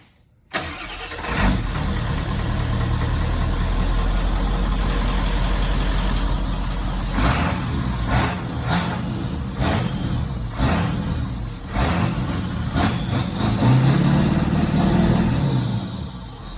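A Ford 7.3L Powerstroke diesel with a 5-inch Diamond Eye cat-back exhaust cranks briefly and fires up after a moment of quiet, then settles into a loud, rumbling idle with a few revs, recorded close.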